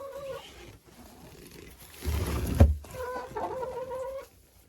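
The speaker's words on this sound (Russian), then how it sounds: "Все куры сидят в курятнике." Chickens shut inside a henhouse during a severe frost cluck and call, with a louder burst partway through and softer clucking before and after.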